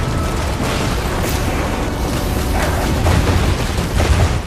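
Heavy artillery shells detonate in the Iron Harvest 1920+ strategy game, a dense continuous rumble of booms and blasts that swells louder toward the end, with no voices over it.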